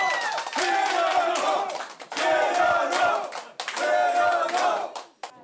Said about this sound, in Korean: 한 표라도 역전하면 탄성과 환호가